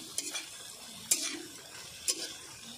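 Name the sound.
stirring spices into curry in a pan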